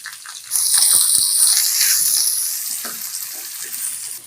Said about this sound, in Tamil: ஒரு பெரிய வெங்காயத்தை வெங்காயம் வதங்கி வர்றதுக்கு கொஞ்சமாக உப்பு சேர்த்துக்கிறேன்